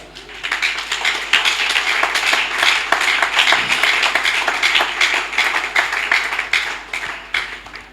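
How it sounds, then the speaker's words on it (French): Church congregation clapping loudly and steadily for the Lord, a dense, sustained wash of many hands with no pause. "On acclame très fort le Seigneur."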